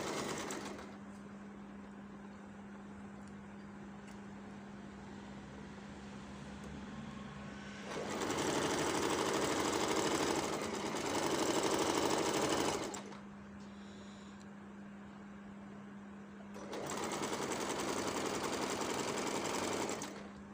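A sewing machine stitches meri blouse pieces together, with two louder bursts of stitching and a later third run, separated by quieter pauses over a steady low hum.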